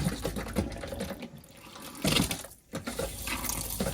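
Hot water running from a tap in a motorhome fitted with Alde heating, a steady gushing flow that surges louder around the middle before easing to a gentle stream.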